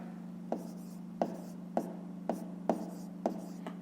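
A pen writes out a math solution in a series of quick, regular strokes and taps, faint and close, over a steady low electrical hum.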